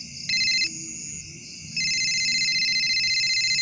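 An electronic telephone ringtone plays in bright, repeating tones, pausing briefly then resuming steadily, loud and close with faint background noise.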